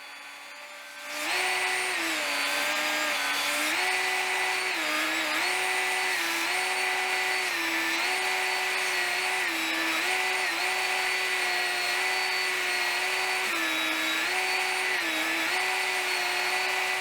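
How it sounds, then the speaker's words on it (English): A power tool sands plastic laundry hamper handles smooth, starting up after a moment into a loud, continuous whining drone whose pitch dips slightly as pressure changes on the workpiece. "I sanded them to make them smooth"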